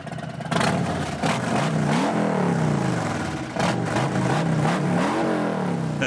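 A motorcycle engine fires up after a brief moment, then idles and revs loudly and continuously nearby, with throaty rises in pitch and no talk over it.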